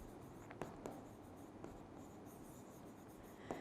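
Chalk or marker taps and scratches on a board during a chemistry lecture on the periodic table, with sparse, faint strokes and a few sharper ticks over quiet room hiss.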